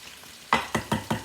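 Chicken breast sizzles in a pan while a utensil stirs it, giving four quick scraping clacks in an even rhythm over a faint fry, close and clear.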